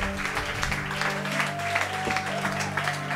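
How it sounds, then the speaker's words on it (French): Church congregation applauding and cheering in acclamation of the Lord during a worship service, dense continuous clapping with sustained tonal music or organ underneath, loud and close throughout. "Est-ce que tu peux continuer d'acclamer le Seigneur?"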